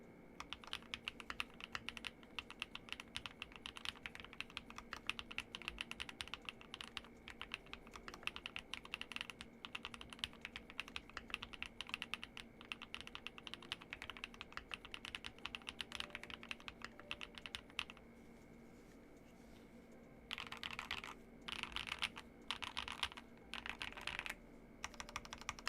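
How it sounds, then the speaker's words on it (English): Typing on a Keychron V1 Ultra keyboard fitted with Gateron Mint Smoothie switches and double-shot PBT keycaps, quiet, close, fast continuous keystrokes with a short pause near the end before a few more bursts. "this is the baseline for this with the Gateron Mint Smoothie switches in it"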